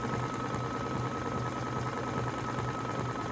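A Brother Essence VM5200 sewing machine running a decorative mirror-image stitch: a steady, low mechanical whir and rhythmic needle chatter, constant and fairly quiet with no talking.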